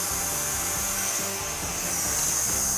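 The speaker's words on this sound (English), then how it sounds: "Oh, I can still hear air coming from somewhere." Steady continuous hiss of air escaping from a leak in a scooter's air ride system, constant and fairly loud throughout with faint workshop rumble beneath.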